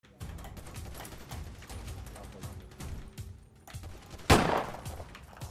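Gunfire in a GTA roleplay session, rapid rattling bursts of shots through the clip ending in one louder blast, with talk faintly underneath.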